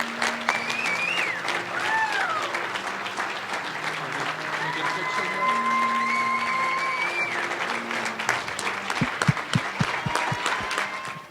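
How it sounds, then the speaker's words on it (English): A crowd applauds steadily and loudly at a 2016 RMAC Hall of Fame induction ceremony, the clapping sustained for several seconds with a brief voice and some whistle-like tones riding over it. "Let's hear it for Jack Hancock."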